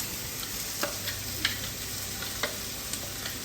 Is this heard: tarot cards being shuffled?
no